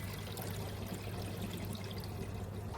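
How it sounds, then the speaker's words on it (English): Screen wash fluid being poured into a vehicle's washer reservoir, a steady soft liquid trickle with a low constant hum beneath, heard alone. "Top up the screen wash before we go anywhere."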